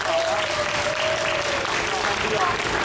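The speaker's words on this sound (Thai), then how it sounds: "ต้องขอเสียงปรบมือให้กับ กรุงเทพมหานครอีกสักครั้งหนึ่งครับ" Audience applause at a Thai youth luk thung singing contest in Bangkok, a steady dense wash of clapping throughout, with a faint voice or tone drifting over it.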